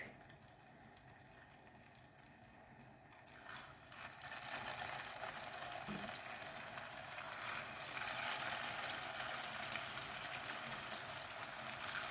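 Cutlets fry in hot oil in a pan. The soft sizzle is quiet at first, then a steady hiss that grows louder and stays even to the end.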